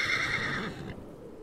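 A horse whinnies loudly and close for under a second, the high harmonic neigh fading into low rumble and faint hoof movement.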